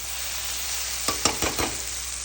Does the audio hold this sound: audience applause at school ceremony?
no